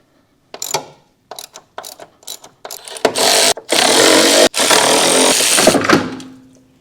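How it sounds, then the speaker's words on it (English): Nuts come off a BMW X5 strut assembly with a ratchet, first a run of short clicking bursts, then loud sustained whirring spins of a power tool broken by brief pauses, close to the work. "let's try not to break anything else and get these couple of nuts off"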